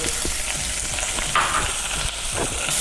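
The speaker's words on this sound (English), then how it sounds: "Then we're going to start by our onions, caramelizing our onions." Onions sizzle loudly in sesame oil in a clay pot as they caramelize with garlic for kimchi stew, a dense steady frying hiss with a few soft stirring knocks and no speech.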